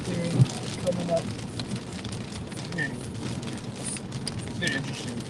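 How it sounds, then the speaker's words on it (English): Steady rain falling during a storm chase, a constant hiss of drops on surfaces with a few brief clicks and tones over it. "I'm already sick of the rain."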